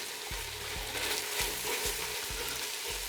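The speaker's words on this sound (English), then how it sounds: "you can hear that sizzle on it" Garlic sizzles steadily in a hot frying pan, with a continuous crackling hiss and a few soft stirring scrapes.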